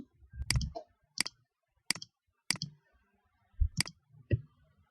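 About seven crisp, close mouse clicks come at irregular intervals while five destination points are placed in network analysis software, with a faint voice in the background.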